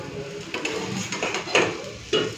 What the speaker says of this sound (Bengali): বরবটি আলু ভাজা হয়ে গেছে, তুলে নিচ্ছি